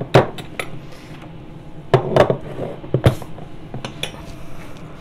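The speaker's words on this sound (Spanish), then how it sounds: "Y lo voy removiendo aquí." A spoon stirs date sugar into a quinoa breakfast in a bowl, giving sharp scattered clinks and scrapes at irregular intervals, fairly quiet and close.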